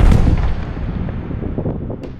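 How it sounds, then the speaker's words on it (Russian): A loud, deep explosion of detonated landmines booms close by, followed by a long rumbling roll that slowly fades. "Каждый день здесь завершается звуками взрывов"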